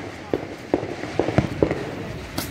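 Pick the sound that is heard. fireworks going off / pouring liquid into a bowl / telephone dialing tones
fireworks going off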